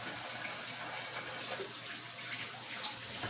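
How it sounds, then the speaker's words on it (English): Hands washed under a running kitchen tap, a steady close rush of water with light splashing throughout, no talking. "Let me wash my hands."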